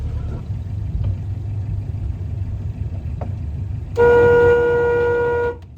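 A viewer's borrowed boat cruising slowly on the River Thames, its engine a low steady rumble that swells abruptly into a loud, close droning whine for a couple of seconds before easing back.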